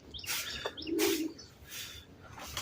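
A pigeon coos low and rolling at close range, mixed with a few sharp chirps and short rustling bursts.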